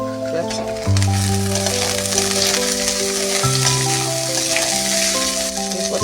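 Capsicum goes into a pan of frying boiled potatoes, and a steady crackling sizzle holds throughout under a sustained musical backing with no talk.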